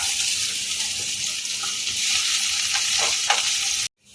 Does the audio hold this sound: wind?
no